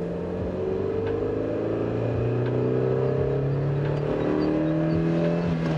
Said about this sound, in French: elle fait pas tant de bruit que ça avec la ligne d'origine